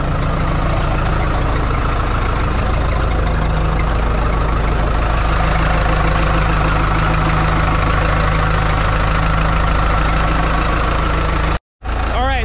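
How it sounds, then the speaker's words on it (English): A Caterpillar wheel loader's diesel engine idles steadily and loudly just after starting up from sitting, with a throttle problem and a large oil leak, chugging evenly until a brief cut near the end. "It's been sitting for a little bit and it fired up without ether."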